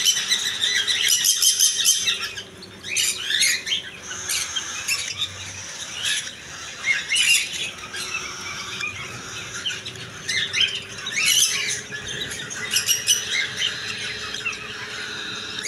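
Cockatiel chicks at a bird and aquarium shop chirp and squawk in dense, continuous bursts, close and lively, with no talking.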